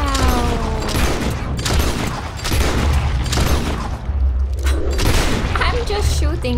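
Gunfire in Red Dead Redemption 2 during a chapter-ending fight: dense, loud volleys of shots and booms follow one another with short gaps, mixed with other game sounds.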